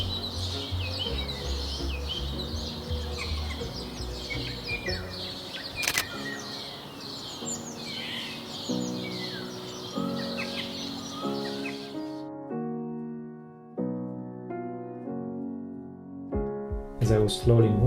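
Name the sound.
starlings calling in the background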